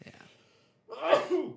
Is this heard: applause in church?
no